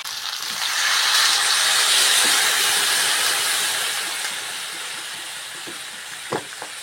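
Water poured into a pan of fried potatoes and okra sets off a loud, broad hissing sizzle that swells, holds for a few seconds, then slowly settles, with a few faint clinks near the end.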